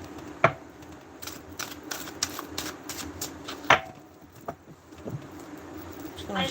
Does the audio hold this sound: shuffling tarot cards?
yes